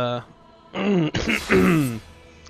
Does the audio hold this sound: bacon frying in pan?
no